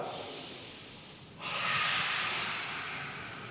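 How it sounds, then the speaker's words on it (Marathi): A forceful yogic breathing exercise: a sharp, loud exhalation bursts out partway through and is held as a strong, breathy rush of air to the end, following a quieter breath. "श्वासाबरोबर जबडा मोठा करायचा आहे 2-3 5 सेकंदापर्यंत आणि श्वास बाहेर फेकायचा आहे 3 वेळेस."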